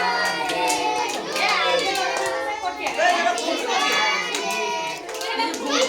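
Several people clap together in repeated rhythmic bursts at a home birthday celebration, mixed with children's and adults' chatter and singing that carry over the hand claps throughout.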